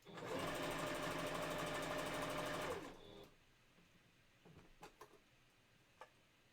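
A sewing machine stitches a Halloween candy corn fursuit prop pillow, running in one loud, steady whir for about three seconds before stopping, followed by a few faint clicks and handling sounds.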